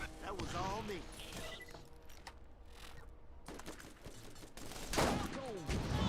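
Falcon sniper rifle from Borderlands fires in loud, sharp bursts, with a strong blast near the end, set among mechanical clicks and ratcheting game sounds while someone talks over much of it.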